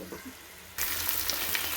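Food rubbed with turmeric, chili powder and salt sizzles as it fries in hot oil in a pan, a loud steady crackle that starts abruptly partway through after a quiet stretch.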